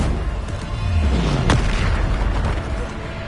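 A Bombarda blasting spell detonates in a Harry Potter game, a deep booming explosion with a sharp crack around one and a half seconds, then a rumbling tail and debris noise that fades slowly.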